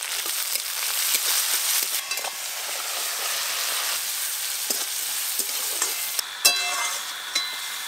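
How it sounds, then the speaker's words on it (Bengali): Chopped onion with tomato and salt sizzling steadily in a pan, a continuous close hiss with a few sharp clinks of a utensil near the end, no talking. "পেঁয়াজ কুচিতে একটু ভালো করে ভেজে নিলাম।"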